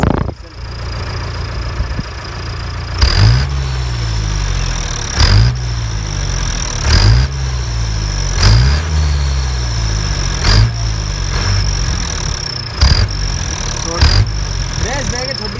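Mahindra jeep with a turbo engine, heard close by as a steady rumble that rises into a string of short revs about every two seconds, with a whistling tone running above it.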